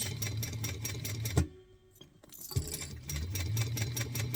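Sewing machine stitching a 1/4 inch seam, a quiet rapid mechanical whir that stops for about a second, then starts up again and keeps running steadily.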